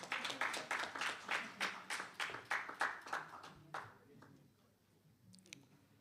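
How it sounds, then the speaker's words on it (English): Applause from the audience at the opening ceremony of the Barbados teachers' union conference, with rhythmic clapping that is fairly loud for about four seconds, then thins to scattered claps under a low room murmur. "You have to clap for that."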